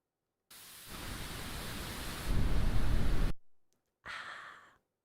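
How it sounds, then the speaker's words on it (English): Deep, rumbly brown noise runs as a steady broadband wash, then swells louder and heavier in the low end before cutting off abruptly. A short breathy burst follows after a pause. "like the kind of rumbly brown noise"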